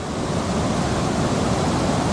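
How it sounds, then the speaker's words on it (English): Rushing runoff water after heavy rain in Kampot, a steady broadband roar with no pauses. "have a look at the water flow"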